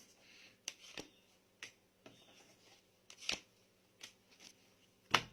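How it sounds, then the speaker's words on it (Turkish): Playing cards are drawn from a deck one at a time, producing several quiet, sharp snaps and flicks spaced irregularly, with a louder slap at the end. "3 kart çekiyorum arkadaşlar"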